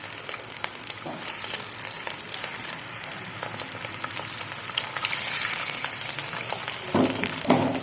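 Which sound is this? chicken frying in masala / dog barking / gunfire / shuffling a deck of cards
chicken frying in masala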